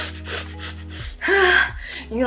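A voice imitates anxious, gasping breathing: a sharp inhaled gasp followed by strained, breathy huffs, close and fairly loud, with no other sounds around it.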